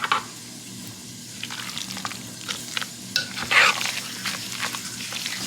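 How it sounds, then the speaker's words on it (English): A spoon stirs a game day dip of shredded pepper jack cheese in a bowl, a steady scraping, squelching mix with occasional clinks against the bowl, close and alone. "Alright, we're going to give this a good mix."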